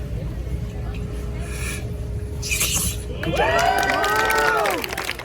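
A street-show crowd at a Clearwater, Florida shore cheers and whoops for a magician's act, with a swelling burst of shouts and whistles near the end over a steady background murmur.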